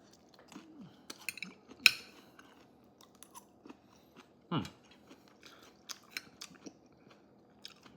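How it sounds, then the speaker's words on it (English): Molars crunch through crisp, fibrous asparagus in close, crunchy bites, with a sharper crunch near the start and another thick one midway, spread unevenly over a quiet background with no talk. "my molars crunch on the asparagus. The same crunch you'll hear"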